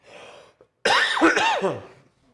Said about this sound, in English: I don't know why I'm all of a sudden starting to cough.